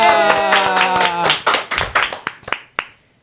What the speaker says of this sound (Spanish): Un aplauso por Gian por la